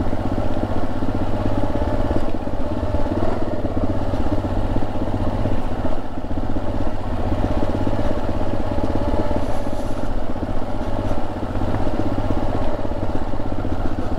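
A motorcycle held in first gear runs steadily down a steep hill on a trail, its engine note constant and close under a continuous rumble of wind and rolling noise.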